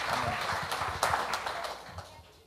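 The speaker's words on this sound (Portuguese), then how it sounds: "dê um aplauso ao Senhor" Church congregation applauding during a Sunday service, a brief burst of scattered claps with murmuring voices underneath that fades out toward the end.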